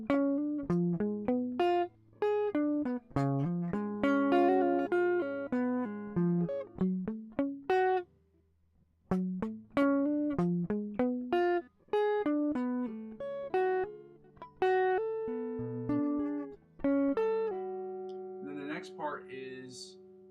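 A guitar plays the first part of a learned song as a melodic run of single plucked notes and short phrases, with a couple of brief pauses, clear and close.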